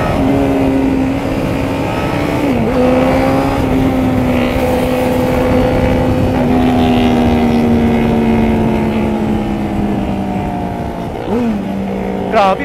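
A 300cc motorcycle speeds past in a race, its engine droning loud and close with the pitch sliding as it shifts and accelerates, overlapping with a second engine and wind rush, a voice exclaiming over the noise.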